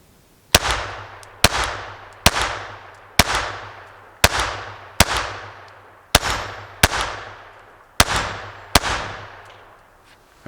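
A Glock 44 pistol firing .22 Armscor ammunition at a range, about ten sharp cracks spaced roughly a second apart, each with a ringing decay, loud and close.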